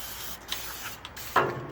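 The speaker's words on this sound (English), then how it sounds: "spray your springs down really good" A spray nozzle hisses in short bursts onto dump trailer springs, with a stronger blast near the end, close by, no talking.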